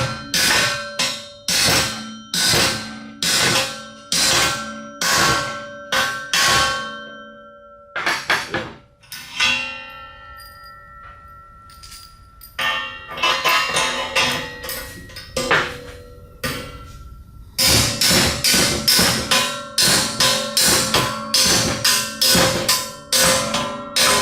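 Rapid metallic hammer blows ring out in steady bursts as a bushing is driven into place on a Tillotson 288cc racing engine, with a short pause of scattered taps before the fast, loud pounding resumes.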